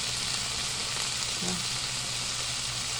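Dried fish (tuyo) fries over medium heat in a pan, giving a steady close hiss of oil sizzling with a faint stir partway through.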